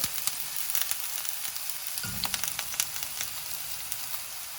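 Onions frying in hot coconut oil at a Kerala street food stall, a continuous crackling sizzle with a soft thud as more onion drops in partway through, then spitting and popping across the rest.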